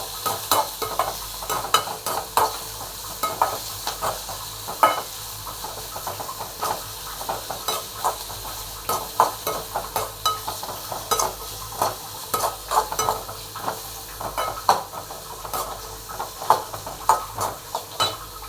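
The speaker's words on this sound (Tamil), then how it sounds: "பெரிய வெங்காயம் போட்டு நல்லா வணக்கணும். லைட்டாக ப்ரௌன் கலர் வரைக்கும் வணக்கணும்." Large onions frying in a pan while being stirred, a continuous close sizzle broken by frequent scraping stir strokes that come in an uneven rhythm throughout.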